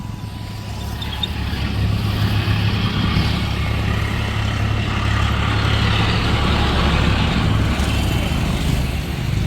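A loaded tractor rumbles past on a road during a Narmada Parikrama walk, its engine drone loud, steady and close for several seconds with no talk over it.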